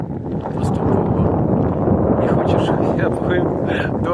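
Strong, steady wind at sea buffets the microphone in a continuous roaring rush, with brief higher-pitched gusts near the end.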